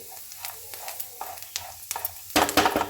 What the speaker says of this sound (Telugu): కొబ్బరి ముక్కలు ఇలాగా కలర్లోకి వచ్చిన వరకు వేయించుకోవాలండి.